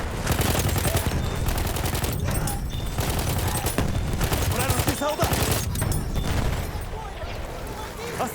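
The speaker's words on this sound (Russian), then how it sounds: "Осторожно, пулемет!" Sustained machine gun fire in the video game Battlefield 1, loud dense volleys with explosive booms mixed in, roaring almost without pause, with voices shouting under the din.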